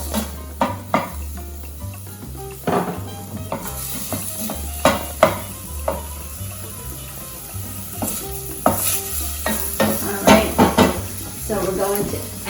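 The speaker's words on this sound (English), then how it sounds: "half of onion that's been chopped, and also 3 garlic cloves that we're going to add in here. And we're going to let that saute" Half a chopped onion and three garlic cloves sizzle in a pan, with steady frying hiss broken by repeated scraping and clanking from a utensil stirring against the pan, and a voice talking at times.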